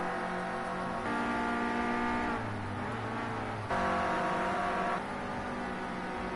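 Clio Cup race cars circle a very wet Brands Hatch GP circuit on slick tyres, engines droning steadily with shifting pitch as cars pass, continuous and fairly loud with no talk.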